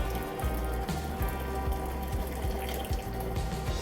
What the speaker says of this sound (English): I'm dumping the water carefully.